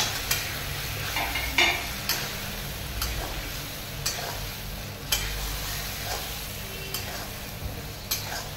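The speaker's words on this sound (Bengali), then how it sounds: "এবার এর মধ্যে আমি এই বেগুনগুলো দিয়ে দেবো।" Eggplant pieces fry and are stirred in a pan, giving a constant sizzle broken by a sharp scrape or clack about once a second from the spoon.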